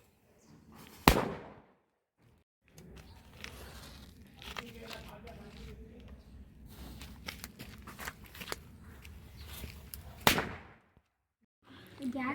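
Two sharp Diwali firecracker bangs burst close by, several seconds apart, with people talking and rustling in between.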